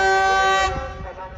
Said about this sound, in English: I think that means the train is coming.